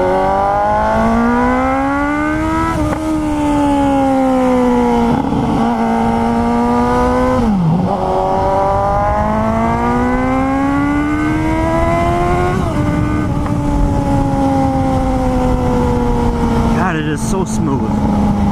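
A 2018 Suzuki GSX-S 750 motorcycle engine burbles up close, its deep tone rising and falling as the revs climb, dip and settle. It holds a smooth, steady idle-like note that ends with a quick blip.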